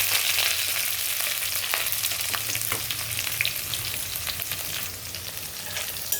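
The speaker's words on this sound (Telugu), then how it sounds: "ఆవాలు, జీలకర్ర వేసానండి." Mustard seeds and cumin sizzle steadily in hot oil while cooking a puri curry, a dense continuous frying hiss with scattered small pops and crackles, close and fairly loud, no talking.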